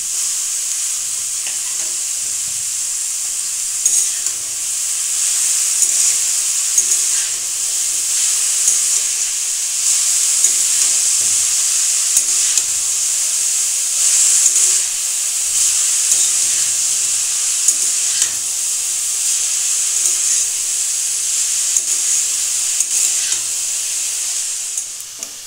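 Cabbage and other vegetables fry steadily in a pan with a loud, continuous sizzle and hiss that lasts throughout, broken only by occasional stirring scrapes.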